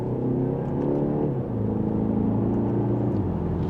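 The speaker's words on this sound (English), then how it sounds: "And we're up to speed with a mild acceleration." A BMW X1 SUV pulls gently in second gear, its engine a steady close hum with smooth rising tones and a brief dip around a shift. Road and cabin noise sit beneath, and no one speaks.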